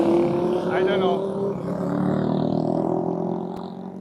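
Busy Arab street noise with motorbikes: engines whine and roar past nearby over a constant traffic din, with voices mixed in.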